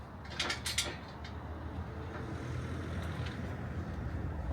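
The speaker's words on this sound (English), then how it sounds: "Another one, another safety bolt goes in this side." A safety bolt is worked into the side of a ladder for a micro camper, giving a few close metallic clicks and ratcheting creaks over a steady mechanical rumble, with no talking.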